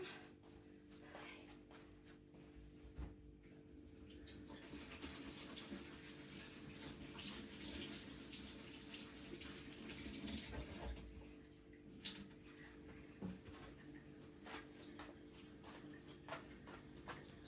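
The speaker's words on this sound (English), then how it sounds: "Right, wash my hands and the yarn." Tap water running steadily while hands and freshly dyed yarn are rinsed, a continuous faint splashing wash with some fluctuations, no voices.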